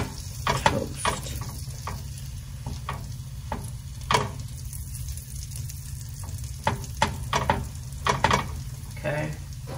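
Buns for homemade lobster rolls pressed into a hot pan, giving a steady close sizzle with scattered sharp clicks and scrapes as they are moved around.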